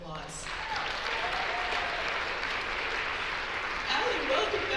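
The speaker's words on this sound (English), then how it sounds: "Let's give them both another round of applause" An audience at a Miss Washington County and Miss Greater Zion pageant applauds in a sustained, dense wave of clapping that fills the hall, with a voice briefly over it at the start.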